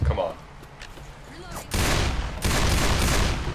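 Rapid bursts of gunfire from the video game Left 4 Dead 2 fill the second half, loud and dense, after a quieter stretch with players talking.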